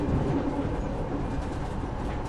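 A moving train rolls along with a steady, dense rumble and faint clatter of rail cars, loud and continuous with no voices, used as a journey backdrop in a spoken horror story.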